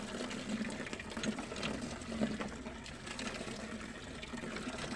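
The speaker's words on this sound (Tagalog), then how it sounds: "At bumbahan natin yung tubig." Water pumped by hand from an underground well to give a carabao a drink, with a steady splashing, gurgling flow pouring out close by at moderate level, faint rhythmic pump strokes in the background.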